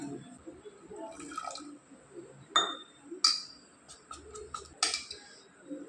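Water is poured and stirred into sweet semolina paniyaram batter, giving soft drips, light clinks and faint sloshing up close, with quiet background noise throughout.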